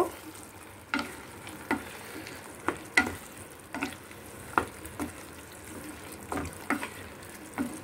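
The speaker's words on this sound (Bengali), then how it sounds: "ধনেপাতা দিয়ে একটু নাড়িয়ে নেব।" Chickpea curry with coriander leaves is stirred in a pan, giving a low bubbling sizzle under regular thumping scrapes of a spoon about once a second, close by and with no voices.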